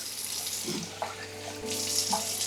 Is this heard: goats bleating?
no